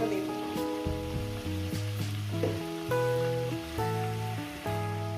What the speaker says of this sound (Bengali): জিরে ফোড়ন দিয়ে দিলাম। এবার তেজপাতাটা দেব।